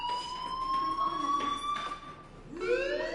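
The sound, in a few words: fire alarm in Life is Strange video game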